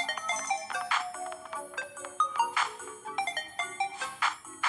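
A telephone ringtone plays as a fairly quiet melodic electronic jingle, repeating in short bright bursts throughout, with no one speaking over it.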